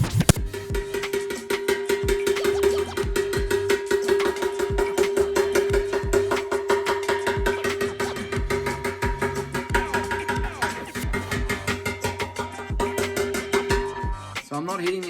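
Light repeated tapping on a restored Moto Guzzi metal fuel tank, a steady run of quick close metallic knocks over a humming background tone, continuing for many seconds.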